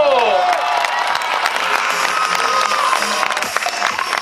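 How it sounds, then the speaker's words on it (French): Audience at a 2015 drag show in Chambley applauds el señor Ricardo, dense clapping and some cheers filling the room loudly, with a voice speaking over the start of the clapping. "Allez, Mesdames les et messieurs, applaudissements."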